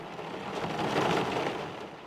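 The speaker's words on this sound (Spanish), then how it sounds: "El sonido de la lluvia comenzó a ser mucho más fuerte." Heavy storm rain pours in a dense, steady roar that swells slightly in the middle of a short stretch, with no voices.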